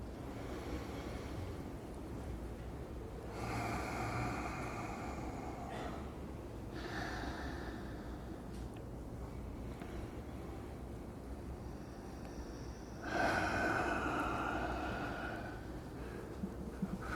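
Slow, deep breaths during a qigong exercise, with a few long inhales and exhales spaced several seconds apart over a quiet, faintly noisy background.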